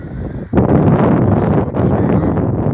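Strong gusts of wind buffet a microphone outdoors, a loud rumbling roar that drops away briefly and then returns, steady and blustery with no voices.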